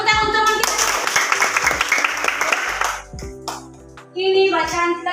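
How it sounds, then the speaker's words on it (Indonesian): Children in a classroom clap for a classmate, a burst of lively, fairly close applause that fades after about three seconds, followed by a teacher talking. "Bagus, tepuk tangan untuk teman kita."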